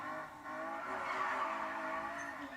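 A car drifting in the Need for Speed Payback video game, a sustained engine roar with a wavering tire squeal layered on top, loud and continuous through the short stretch.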